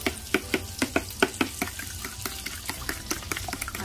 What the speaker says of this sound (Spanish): Y ahora vamos a batir los huevos